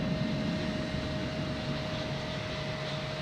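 A steady, distant roar of an airplane engine landing at Boston Logan Airport, with a constant hum and broad rushing noise throughout.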